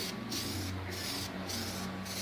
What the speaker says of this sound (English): So I take my paint, just regular acrylic paint, black paint, and spray it, first coating.